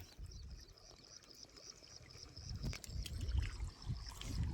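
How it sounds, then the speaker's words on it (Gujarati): Irrigation water runs into furrows of a cotton field outdoors, a faint trickling flow that swells to a louder gurgling rush toward the end, with a thin high insect-like whine above it. "આપણે કપાન પાણી ચાલુ કરી દીધું"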